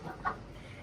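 A hen on a small terrace poultry farm gives a single brief, faint cluck amid quiet background noise.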